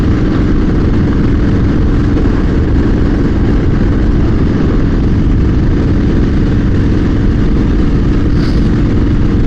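A motorbike engine running out on a ride after a long spell of bad weather, a loud continuous low rumble that holds steady throughout with no talking.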